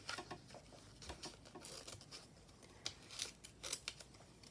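Scissors snipping through glossy magazine paper for a journal collage, a quick run of close, crisp cuts and rustles in a quiet room.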